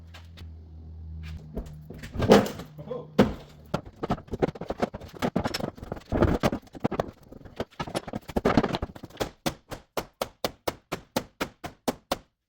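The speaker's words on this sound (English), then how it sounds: "I want to see if I can open these doors." Stuck doors on a cheap, worn Ford Crown Victoria are worked and forced, giving a run of sharp knocks and thunks, heavier bangs in the middle, then a steady series of evenly spaced loud metallic hits near the end.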